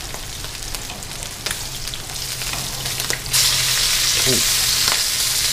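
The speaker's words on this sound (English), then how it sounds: "Let it cook a couple of minutes on each side and should be good. Go ahead, flip it over." Shark fillet sizzling steadily in a hot pan, with a brief clatter as it is flipped over and the frying swelling louder and brighter afterward; a short spoken word is heard.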